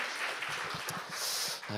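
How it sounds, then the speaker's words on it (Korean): Applause from a church congregation at a praise worship service, a soft, fairly distant wash of clapping that continues under a speaking voice. "박수 한번 부탁드리겠습니다"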